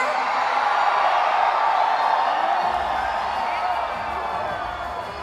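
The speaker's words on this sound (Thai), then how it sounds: "เสียงกรี๊ดดังๆส่งท้ายทุกคน ได้ไหมคะ" Crowd screaming and cheering at an idol concert at Iconsiam, a dense, sustained roar of high-pitched shrieks and whoops that stays loud throughout, with a faint voice underneath.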